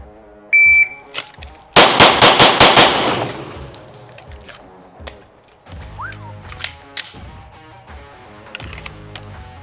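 Pistol fired in a rapid string of six shots during a Bill Drill, sharp close cracks in quick succession after a shrill start beep, followed by ringing metallic clangs of steel targets and scattered clatter.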